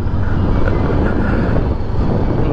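A loud, steady engine roar with a deep rumble from a 2018 Honda CBR500R motorcycle while riding, constant throughout and close up, with no talking over it.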